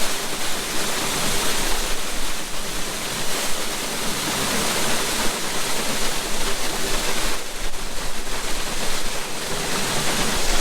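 Grain pours out of the side sump of a farm grain bin in a loud, steady, hissing rush that runs without a break.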